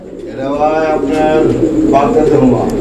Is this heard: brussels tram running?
no